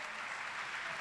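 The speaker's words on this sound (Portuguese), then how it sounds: "Pode aplaudir mesmo a Ele" A church congregation claps steadily during a worship service, a dense, even wash of applause heard from some distance with no voices on top.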